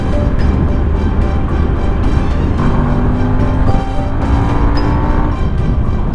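A new demo motorcycle engine pulls hard under acceleration, a loud, continuous rumble with rising harmonic whine as revs climb past 4,000 RPM, heard up close from the rider's position with wind noise.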